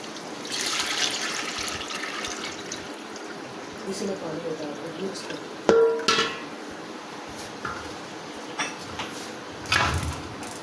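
A lassi and gram flour mixture is poured into a pot of fried masala for kadhi pakoda, giving soft liquid splashes with a few sharp utensil clinks over a steady kitchen background.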